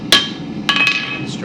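Hammer strikes a rivet held in blacksmith tongs: one sharp metallic hit, then a couple more quick ringing blows close by.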